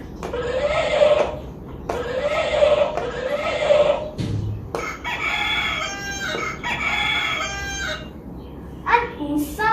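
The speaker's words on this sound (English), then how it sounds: "This is the sound of a hen." Chickens at a farm give repeated crowing calls and clucks, several loud rooster-like crows in succession with short pauses, no talk.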